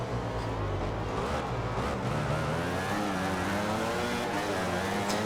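A racing motorcycle in the video game MotoGP 15 brakes into a corner, its engine a loud, continuous whining roar with pitch shifting downward as it slows, close up and without speech.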